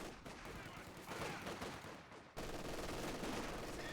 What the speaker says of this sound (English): we're gonna struggle here with the MG42 in a decent spot